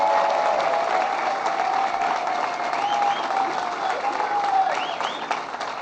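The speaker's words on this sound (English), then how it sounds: "let's give him another round of applause" A round of applause at a bill-signing ceremony led by Governor Cuomo, with steady crowd clapping that fills the whole stretch at a fairly loud, even level and a few faint tonal sounds over it.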